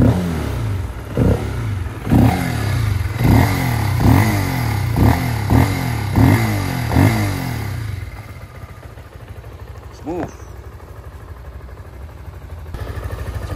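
Voge FR 150 supermoped engine revved repeatedly, about eight sharp throttle blips rising and falling in quick rhythm, close and loud, then settling to a lower idle with one final short rev.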